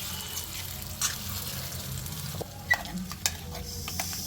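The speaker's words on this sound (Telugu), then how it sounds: "ఈ లోపు ఏంటంటే కొంచెం కరేపాకు వేసుకుందాం బాగుంటుంది" Curry leaves sizzling in hot oil in a pan while cooking Telugu-style salan mirchi curry, a soft steady crackle with a few brief clinks and stirring sounds, fairly faint.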